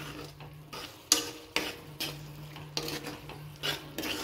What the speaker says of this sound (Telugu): సో మీ టేస్ట్కి తగ్గట్లుగా మీరు కూడా సాల్ట్ కారం వేసుకొని చక్కగా తిప్పుకొని